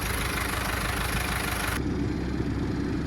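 A David Brown Cropmaster, a small but heavy 1.7-ton tractor, idles with a steady, loud, unbroken engine drone that holds throughout.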